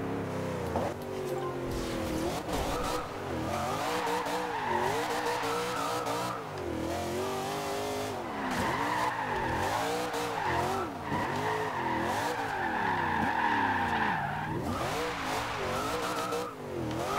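Camaro Z/28 drifting sideways around a harbor in the video game Forza Horizon 2, engine roaring and revving continuously while tires squeal in long sustained screeches, loud and close throughout.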